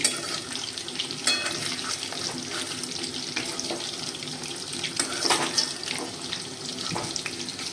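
Chicken 65 pieces fry in a pan over a low flame, giving a continuous soft sizzle and crackle with a few brighter pops and light stirring touches, close by with no talking.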